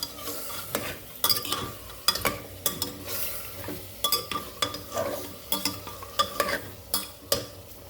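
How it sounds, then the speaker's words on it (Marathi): A spoon scrapes and stirs mutton and tomato in a pan, giving repeated irregular clinks and scrapes over a low sizzle, close and fairly quiet. "आता पूर्णपणे हलवून घेऊ"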